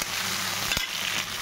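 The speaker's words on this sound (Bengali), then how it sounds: "আর এটা এখন আমি পেঁয়াজটা একটু লাল করে ভেজে নেব।" Onions frying in a pan until reddish-brown, a steady close-up sizzle with a brief louder clatter midway, no one talking.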